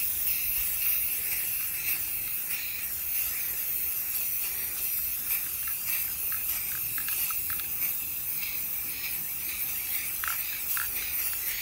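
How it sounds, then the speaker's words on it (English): Cabot Gold deck stain being sprayed onto a deck with a sprayer, a steady close hiss with faint mechanical clicks and pulses running throughout. "I don't even have to be very fancy about how I spray them."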